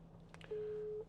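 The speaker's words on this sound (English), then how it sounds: "So it's ringing me, it's engaged," A single short electronic telephone busy tone from the Apple CarPlay system of a 2018 Land Rover Discovery holds steady for about half a second, faint and clear against a low background hum.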